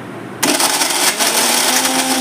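Mixer grinder grinding jaggery for black horse gram laddu: a sudden loud motor whir kicks in after a brief quiet start and runs steadily with gritty churning throughout.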